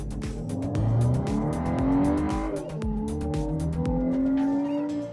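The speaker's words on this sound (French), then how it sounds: "Je vais vous montrer l'accélération du véhicule" A 2024 Volkswagen Atlas pulling away from a stop on a road, its engine note rising and shifting through gears in repeated upward sweeps, steady and moderately loud from inside, with no speech.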